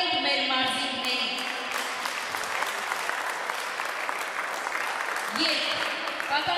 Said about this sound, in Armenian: եկեք ծափահարենք մեր մարզիկներին